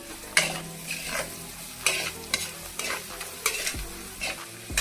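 Vada pav filling for Mumbai street-style vada pav sizzles in a pan with coriander and turmeric as a spoon stirs it, giving repeated scraping strokes in a loose rhythm over a constant close frying hiss.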